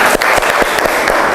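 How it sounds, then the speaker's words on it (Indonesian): A classroom audience applauds a group's presentation, a dense burst of close hand clapping that runs steadily throughout. "Oke, kita aplaus dulu."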